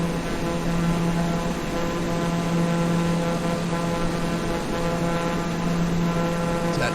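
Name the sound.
small plane engine in flight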